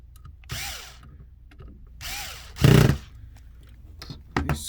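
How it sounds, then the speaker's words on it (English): A power screwdriver drives screws into a Sony BDP-S301 Blu-ray player under repair, with short whirring bursts that rise in pitch and a louder clunk between them, close and otherwise quiet. "We're just gonna put the screws in."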